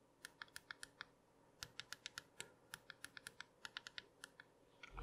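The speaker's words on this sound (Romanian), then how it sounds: "uite cum se aude când apeși pe buton" Quiet, sharp clicks from the side button of a Samsung Galaxy A30s phone, pressed repeatedly in a quick uneven run close to the microphone, with no talking.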